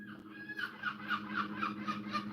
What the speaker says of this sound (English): Well, the seagulls seem impressed.